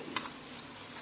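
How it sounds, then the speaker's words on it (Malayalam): Green chillies drop into a hot pan on full high flame while cooking a prawn theeyal, giving a brief soft hiss and sizzle with a faint clink near the start, quiet and close. "ഇനി നമ്മൾ ഇതിലേക്ക് പച്ചമുളക് ഇടുകയാണ്"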